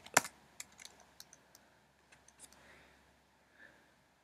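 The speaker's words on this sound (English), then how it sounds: "Let me type" Light typing on a computer keyboard, a handful of quiet, close key clicks scattered irregularly, with one sharper stroke at the start and faint taps trailing off, no talk.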